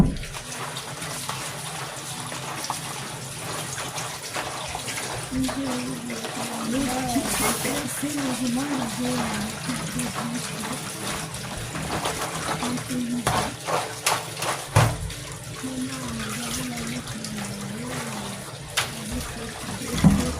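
Grated macabo being rinsed and washed in water in a home kitchen, with splashing, sloshing and clinking of a bowl or pot, someone talking over much of it.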